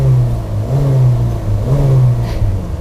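A 1500 cc car engine revving smoothly and quietly, the low hum rising and falling in three gentle swells, close by with no talk.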